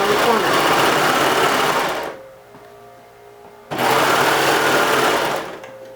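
A serger runs a rolled hem stitch around a fabric corner on a ruffled baby diaper cover, whirring loud and steady in two bursts with a short quiet pause between them.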